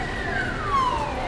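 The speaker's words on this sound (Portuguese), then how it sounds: "ambulância" An ambulance siren on Avenida Paulista wails in a single falling sweep over steady street traffic rumble, fairly close and prominent, with no voices.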